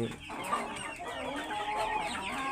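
Brahma chickens cluck on a farm, a steady run of close, soft hen calls with light background murmur.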